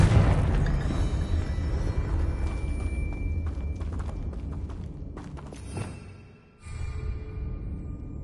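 A Confringo spell blasts in Hogwarts Legacy, with a dense, rumbling low boom that fills the scene before dropping out sharply near the end and then surging back.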